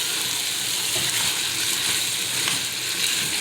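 Steady crackling sizzle of tomatoes frying in a pan for curry, constant and close, with no talking.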